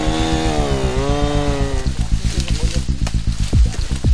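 A chainsaw cuts through a dead tree that has fallen onto a fence, its engine whining high and then dropping into a loud, rough, pulsing drone as it bites into the wood, close and continuous.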